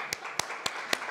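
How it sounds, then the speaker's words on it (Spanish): Four evenly spaced sharp claps from an audience at a live talk, moderately loud against a quiet background, with a steady rhythm. "Por favor, póngase de pie ese señor y le den un aplauso."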